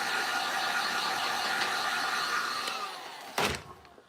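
A hair dryer blows steadily on a freshly painted piece, a loud continuous whoosh that holds for about three seconds, then cuts off with a short thump and fades out.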